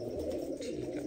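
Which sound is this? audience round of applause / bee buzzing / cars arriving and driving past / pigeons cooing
pigeons cooing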